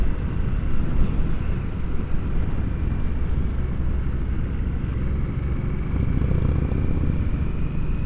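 A 2022 Harley-Davidson Nightster with stock exhaust runs at a steady cruise, its engine drone blended with heavy wind rush throughout, no talking.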